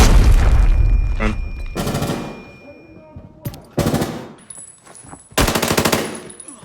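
Loud automatic gunfire in the shooter game Arena Breakout, with an AEK rifle firing AP ammo at the TV Station forbidden zone: several sharp bursts separated by short pauses.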